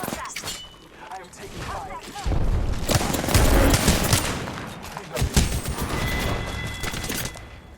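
Heavy gunfire in the battle-royale game Apex Legends, with dense bursts and rapid automatic volleys that swell to a loud sustained barrage midway and keep crackling to the end, with a voice talking over them.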